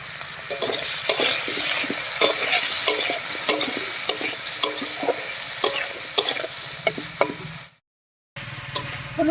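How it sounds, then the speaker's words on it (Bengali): Potatoes fry in a pan with salt and turmeric while a utensil stirs them, a continuous sizzle broken by frequent sharp scraping clicks against the pan, close and fairly loud. "লবণ দিয়ে নাড়িয়ে নিয়েছি"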